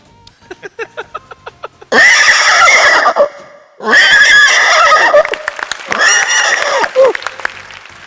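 A stage mimicry performer imitates a horse neighing: three long, loud, quavering whinnies, the middle one after a brief pause, framed by scattered audience clapping before and after.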